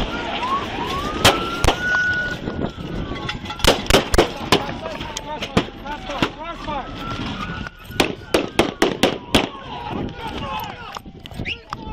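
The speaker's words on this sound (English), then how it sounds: "Shots fired!" Sharp, loud gunshots crack repeatedly in scattered bursts during a Los Angeles police chase, over a wailing police siren, with shouting voices in between.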